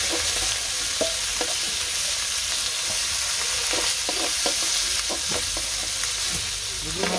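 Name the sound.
fish frying in a pan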